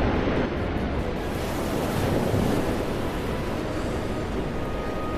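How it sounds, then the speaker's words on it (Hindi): A storm at sea with rough waves crashing, a dense continuous roar of surf and wind that stays loud and steady throughout, with no voices. "अचानक तूफान उभरने लगे जैसे तीव्र लहरें।"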